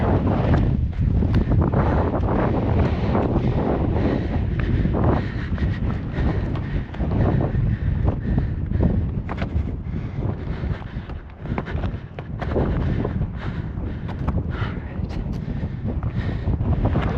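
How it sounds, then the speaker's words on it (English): Strong wind roars steadily into the microphone on the Koko Head Crater ridge, with heavy gusty buffeting throughout and no voices. "I can admit it's pretty damn windy"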